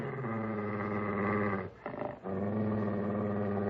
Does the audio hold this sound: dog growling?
yes